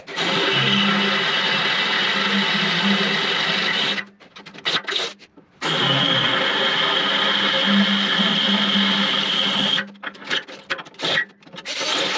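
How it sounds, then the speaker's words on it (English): A power drill fitted with a large bit enlarges pilot holes in metal to mount bucket hooks on a Kubota L-Series tractor. It whines loudly in two long runs, each ending in short stop-start bursts as the trigger is feathered. "Now we have our big drill bit on, and we're going to go back through the pilot holes and get these to the correct size."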